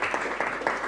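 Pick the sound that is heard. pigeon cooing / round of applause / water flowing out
round of applause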